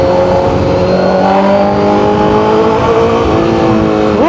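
A loud, close Honda CBR1000RR-R Fireblade SP engine revs steadily upward in pitch, holding a strong rising whine as the bike accelerates, with a fresh surge at the very end.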